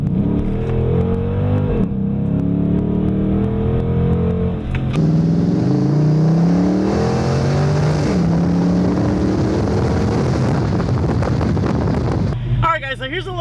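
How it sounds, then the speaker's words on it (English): A Dodge Charger SRT8 Hemi V8 idles with a deep, steady rumble and rises into a few revs, heard close up with wind buffeting the microphone. "my favorite part about my SRT8 is that classic, legendary Hemi Rumble, just like this."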